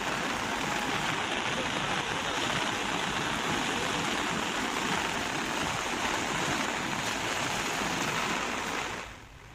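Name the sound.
rushing flooded river water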